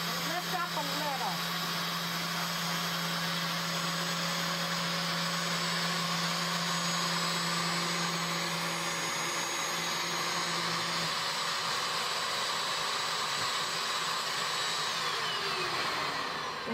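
A carpet cleaning machine runs continuously on a living room carpet, sucking up water with a loud, steady high-pitched whine and motor roar that shifts in tone partway through.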